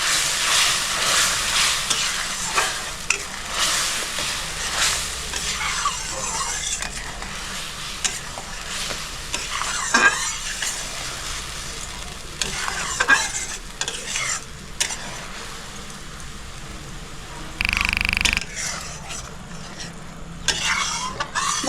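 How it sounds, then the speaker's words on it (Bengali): Mustard hilsa gravy of ground mustard, poppy seed and turmeric is stirred in a sizzling pan on a gas stove, with continuous scraping and bubbling frying sounds, close and steady throughout, and a brief louder burst near the end. "ভালো করে মিক্স করে নিচ্ছি।"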